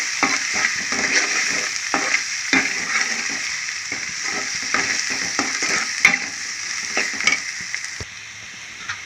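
Spices, red chilli powder, salt, turmeric and garam masala fry in a hot pan for egg curry. A continuous bright sizzle runs close and fairly loud, with frequent scraping stirs breaking through it.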